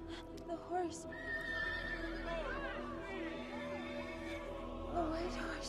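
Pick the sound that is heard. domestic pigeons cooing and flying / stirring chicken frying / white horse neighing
white horse neighing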